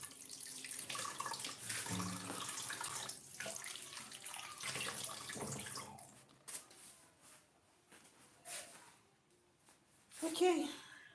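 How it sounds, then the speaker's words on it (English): Tap water runs into a kitchen sink as a baking scoop is rinsed, a steady rush that stops partway, followed by a few clinks and handling sounds, with a person talking throughout. "Let me rinse it."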